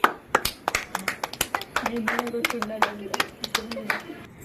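Children clap in quick, uneven bursts of many sharp claps, fairly close, with voices talking and calling out beneath.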